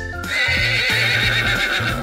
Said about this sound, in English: I am a horse.